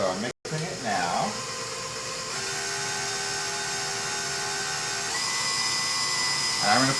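An electric hand mixer beats strawberry box cake batter with a steady, close, high motor whine that shifts pitch a couple of times as the beaters move through the bowl.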